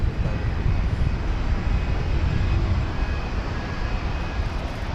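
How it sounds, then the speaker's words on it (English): An Airbus A350-900 airliner at DFW Airport gives off a steady, broad jet roar at moderate distance, a constant low rumble with airy hiss that neither rises nor fades over five seconds, with no talking. "This is an A350-900."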